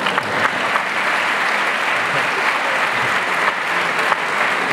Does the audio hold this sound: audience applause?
yes